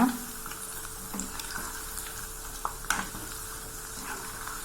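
Cabbage pakoda frying in oil with a low continuous sizzle, stirred and turned now and then, with a few brief scrapes and knocks, moderately quiet and close, with no speech.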